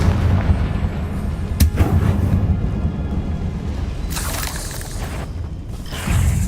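The Confringo fire spell in the Hogwarts Legacy video game bursts in repeated booming explosions over a dense, rumbling game soundscape, with sharp cracks and bright crackling bursts rising above a loud continuous low roar.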